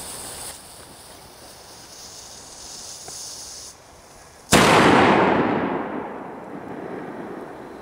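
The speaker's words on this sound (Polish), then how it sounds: "Odpalamy sobie teraz Dum Bum 5G" A Dum Bum 5G firecracker set off outdoors and heard from some distance: a steady quiet background, then one sharp loud bang that rings out and slowly fades.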